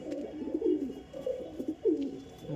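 A male Chatiyal pigeon coos repeatedly in low, rolling phrases, close by and fairly loud, with a pause between bouts and soft background noise.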